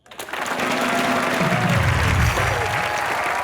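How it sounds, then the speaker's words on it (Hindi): Studio audience on Comedy Nights With Kapil breaks into loud, sustained clapping that starts abruptly and holds steady, with a low musical tone swelling underneath. "ठोको ताली"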